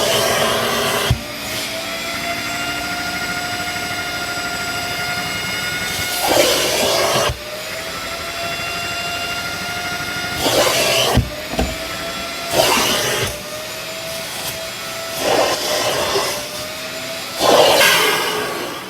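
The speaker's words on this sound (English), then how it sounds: "And then immediately go over it with your extractor." A carpet extractor fitted with an extractor tip runs with a loud, steady whine and suction roar while cleaning tough stains from carpet, broken by repeated surging bursts of hiss as the tool is pushed and pulled across the pile.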